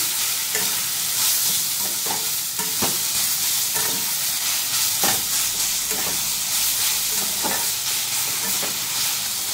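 Drumstick (munga) greens fry in a pan and are stirred, a close, steady sizzle broken by repeated scraping strokes of a spatula at an uneven rhythm, with no talking.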